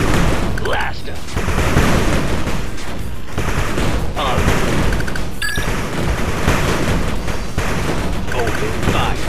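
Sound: gunfire in the 8-Bit Armies video game

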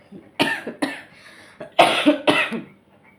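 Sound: coughing

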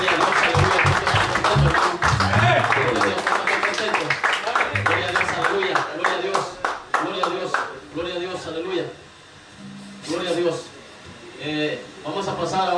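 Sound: congregation clapping hands in praise

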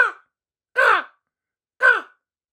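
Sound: crows cawing in dark woods

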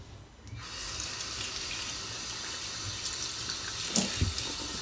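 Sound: washing plums under running water

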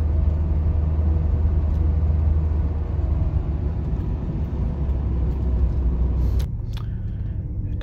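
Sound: 1987 Chrysler LeBaron Turbo Coupe driving on the road

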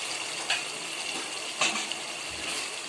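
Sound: water being poured into spiced curry masala

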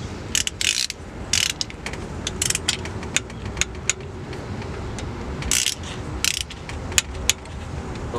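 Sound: ratchet wrench tightening bolts during LS engine cam swap

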